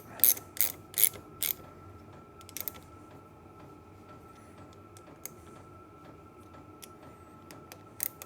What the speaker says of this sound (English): And then we'll tighten the clamp bolts back up.